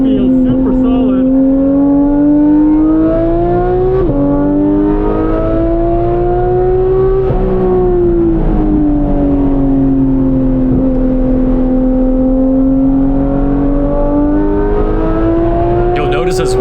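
A 2018 Porsche 911 GT3 (991.2) with a PDK gearbox accelerates hard around a racetrack at Spring Mountain Motorsports Ranch. The loud, steady engine note climbs in pitch and drops sharply at each quick upshift, heard from inside the car.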